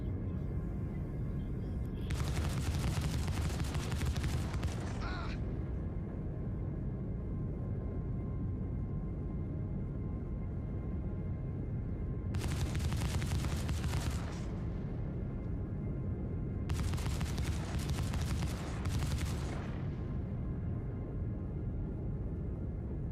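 Turret gunfire from a ship in Star Citizen: three separate bursts of rapid automatic fire, each lasting a few seconds, over a steady low engine hum.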